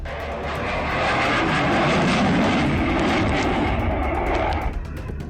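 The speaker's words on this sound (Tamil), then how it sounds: "போலந்தில் விமான கண்காட்சிக்கான ஒத்திகையின் போது போர் விமானம் தரையில் விழுந்து தீப்பிடித்து எரிந்தது" An F-16 fighter jet roars during an air show rehearsal in Poland, a loud, broad engine rumble that swells and holds steady before easing slightly as it passes, with no talking.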